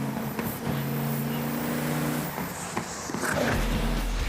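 A race car engine drones steadily with a strong harmonic buzz at Laguna Seca raceway, then drops in pitch as it shifts gear; a deep low rumble follows near the end.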